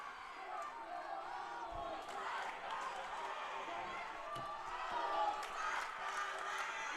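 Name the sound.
crowd chanting their team's name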